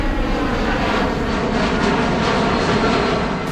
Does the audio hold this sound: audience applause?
no